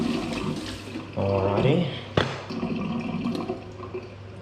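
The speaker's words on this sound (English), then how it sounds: "Wash your fingies up because you don't want them dirty." Hands being washed under running water from a tap at a sink in a kitchen, a rushing splash that starts and stops, close by, with a sharp knock and a person speaking briefly over it.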